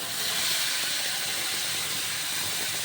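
Spice paste dropped into hot oil for a spinach and pea curry, a loud, even hissing sizzle that holds steady throughout with no voices.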